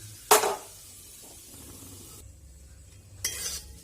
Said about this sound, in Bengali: ঘি দেওয়ার পরে আমি এখানে এই বাটিতে যে আমার 100 গ্রাম সুজি, সেই সুজিটা পুরোটা দিয়ে ভেজে নেব।